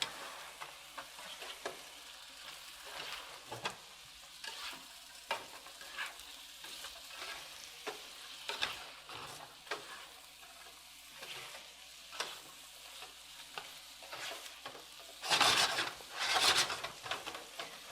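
Shrimp tossed with minced garlic in a hot frying pan, cooked about two minutes before the garlic goes in: repeated scraping and stirring strokes over a low sizzle, with a louder burst of clatter near the end and no voices.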